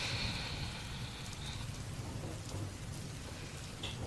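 Steady rain pours throughout, a dense even hiss with a low continuous rumble beneath that suggests distant thunder, no voices present.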